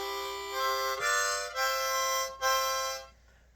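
Harmonica playing in full chords, close and bright, several sustained reedy chords separated by quick breath changes, fading out at the end with no voices.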